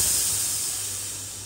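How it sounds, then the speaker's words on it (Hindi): Steam hisses hard from a pressure cooker of mutton shorba, a loud, steady, airy rush that stays constant and eases only slightly toward the end. "प्रेशर को हम निकाल देते हैं।"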